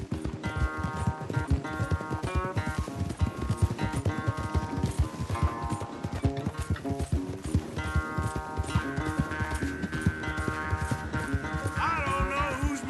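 A horse gallops hard in a Red Dead Redemption 2 race back, rapid rhythmic hoofbeats pounding close and loud with tack jingling, continuing steadily throughout.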